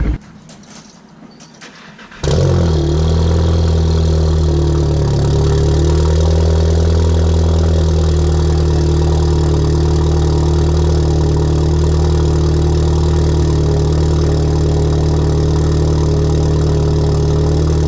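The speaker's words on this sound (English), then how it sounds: "I'm gonna give you guys a quick cold start to show you how horrible this car kind of idles." A VW MK7 car with failing fuel injectors fires up on a cold start after a quiet pause, catching quickly, then settling into a steady, loud, close-up idle with a constant low drone and no voices.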